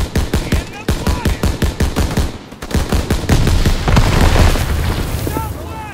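Soldiers firing rifles and machine guns in Call of Duty WW2, loud rapid bursts of gunshots with heavy booming blasts, building into a dense, continuous barrage, with shouted voices over it.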